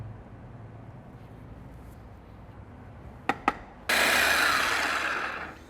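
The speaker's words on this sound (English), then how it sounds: "The reason we're breaking it down in the food processor today is because I want this almost a paste-like consistency" A food processor blends chimichurri made with olive oil into a near paste, starting abruptly as a loud, steady whirring roar that fades slightly, preceded by two sharp knocks over a quiet room.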